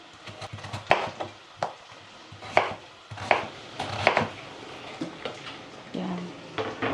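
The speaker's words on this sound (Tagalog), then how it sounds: "So, slicein na natin to." Potatoes and carrots being sliced on a cutting board in a home kitchen, a steady series of sharp knife taps with short pauses, close and clear, with someone talking quietly now and then.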